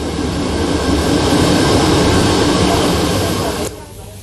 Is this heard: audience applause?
no